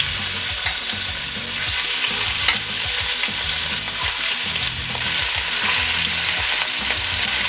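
Beef ribs sear in batches in a hot pan, a steady close sizzle and spatter of frying meat that runs unbroken throughout with no talking.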